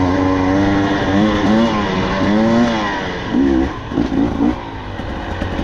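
A 2024 KTM 300XC-W two-stroke dirt bike with a TSP head and ECU tune revs hard on a trail, its pitch climbing and falling in repeated surges, close and loud throughout.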